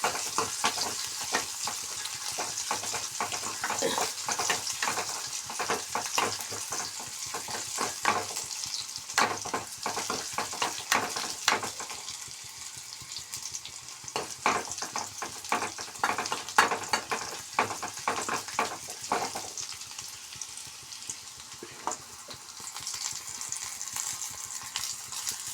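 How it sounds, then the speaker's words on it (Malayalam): Onions frying in a pan until browned, a steady close sizzle with frequent scraping stirs from a spatula running throughout, no voices. "ഉള്ളി ഒന്ന് മൂത്ത് വരട്ടെ"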